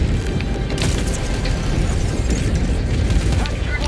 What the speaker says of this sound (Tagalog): Yung sumabog na yun.